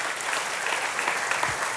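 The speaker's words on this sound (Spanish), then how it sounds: "Dele fuerte el aplauso al Señor." A congregation claps loudly for the Lord in a church service, a dense, continuous burst of applause from many hands, close and strong, with no speech.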